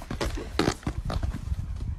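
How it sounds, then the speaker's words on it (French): A horse breaking wind, heard as a few loud, rough, sputtering bursts up close, with brief pauses between them. "Ce cheval lui a pété à la gueule."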